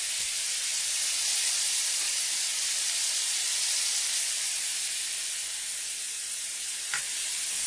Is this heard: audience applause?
no